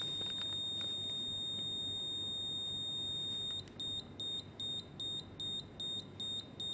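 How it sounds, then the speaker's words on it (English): FPGA board alarm sounding a high electronic tone, steady at first and then pulsing into a regular series of short repeated beeps about twice per second, clear and close with no talking. "the alarm is on, and it is a beeping sound"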